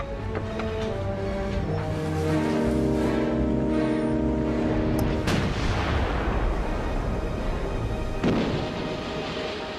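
Naval guns of a WWI battle firing at long range, with deep, heavy booms rolling over a continuous dense background, a sharp report standing out midway amid sustained low rumble.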